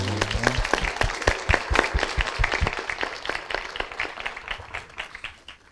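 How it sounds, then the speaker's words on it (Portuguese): An audience at a literary talk in Paracatu applauds the teachers, many hands clapping in a lively, fairly close burst that gradually tapers off toward the end. "uma salva de palmas para os professores"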